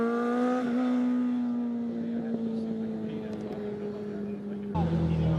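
An older Kawasaki ZX6R sport motorcycle whines loudly at high revs on Mulholland Highway, holding a steady tone before the sound shifts abruptly as the bike moves past.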